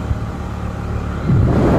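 A car drives along a village road, its engine a steady low rumble that swells louder near the end, with no talking.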